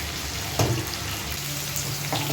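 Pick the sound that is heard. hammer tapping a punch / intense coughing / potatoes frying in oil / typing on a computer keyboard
potatoes frying in oil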